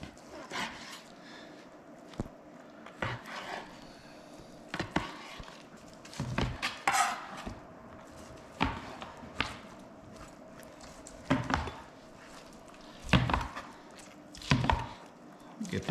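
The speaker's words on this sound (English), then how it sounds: "I'm going to slice this up into about 1-inch chunks" Knife chopping pork butt into 1-inch chunks on a cutting board, with a steady series of sharp, close thuds and slices in an irregular rhythm, several strokes a second, and no talking.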